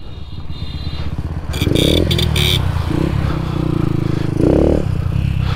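A Honda Fan motorcycle engine, a 125 with Vareta, revs hard and shifts gear, the loud droning note rising in bursts with clattery mechanical noise and brief scrapes in between.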